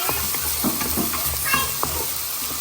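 Mushrooms stirred into a pan of sizzling sardines with okra, giving a steady frying crackle with soft scraping stir strokes throughout.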